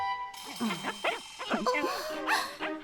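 Several cartoon dogs from the animated series Hello Carbot yip and bark in quick, high, excited bursts, close and lively.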